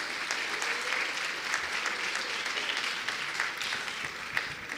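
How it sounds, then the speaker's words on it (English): An audience at a university dialogue event gives the Vice Chancellor a round of applause, a fairly distant, even wash of many hands clapping that holds steady throughout. "Let's give a round of applause to our Vice Chancellor again."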